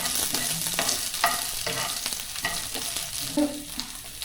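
Spices crackling in hot oil in a pan, a dense close sizzle with scattered sharp pops and spoon scrapes throughout, no talk.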